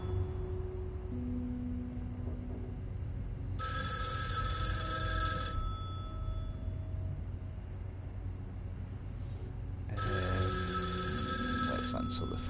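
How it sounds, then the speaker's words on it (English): An in-game telephone rings in the PS4 horror game Erica: two loud bursts of a bright electronic ring, each about two seconds long, separated by a quieter stretch over a low ambient hum. "Let's answer the phone."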